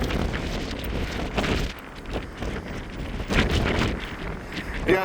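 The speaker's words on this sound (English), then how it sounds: "It's windy out here." Strong gusting wind on the deck of the Queen Mary 2 during an Atlantic crossing buffets the microphone in a steady roar with rising and falling surges; no talking.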